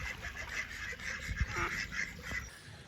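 A duck quacks repeatedly beside a canal where narrowboats moor, a few nasal calls at mid distance over soft outdoor background.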